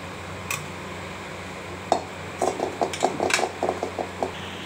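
A metal tea pot comes off a gas stove with a sharp clank, followed by a quick run of light metallic taps and rattles, close and quiet over a faint background hum.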